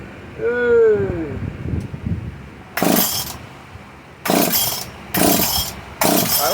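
A Makita DPC7321 gas concrete saw engine revs in four sharp, loud bursts, each rising and then dropping away to idle between them. A voice is heard briefly before the first burst.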